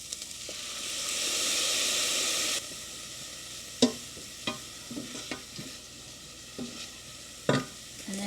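Chicken frying in a hot pan, a steady loud sizzle that settles into softer crackling with scattered pops and stirring clatters, close up and without talking.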